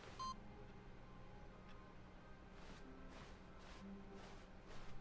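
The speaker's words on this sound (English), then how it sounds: "there's computers to beep and boop" A computer beeps in The Stanley Parable office video game, a faint short tone followed by a run of soft, evenly spaced electronic blips under quiet background hum.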